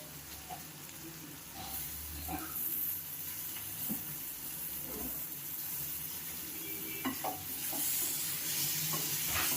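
Onions and tomatoes sautéing in a pan for curry leaf chutney, a soft, quiet sizzle with scattered scraping and clinking of a spoon stirring against the pan.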